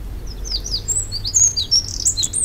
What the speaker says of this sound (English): This is a bird call in the early morning.